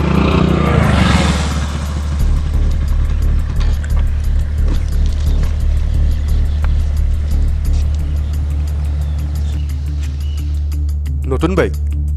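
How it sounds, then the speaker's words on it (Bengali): A new motorcycle's engine runs with a loud, steady low rumble close by, holding an even idle throughout with no clear revving. "নতুন বাইক"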